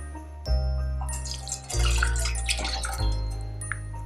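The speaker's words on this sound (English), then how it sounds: "add water" Water pours steadily into a saucepan for cranberry sauce, a close, continuous splashing stream with a few short breaks, with no talking.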